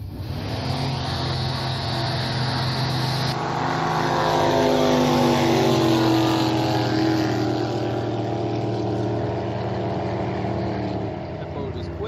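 A powerful jet boat engine roars steadily past during a river race, its loud droning pitch shifting as it speeds by, with faint voices underneath.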